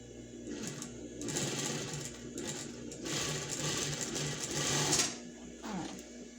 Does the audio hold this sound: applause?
no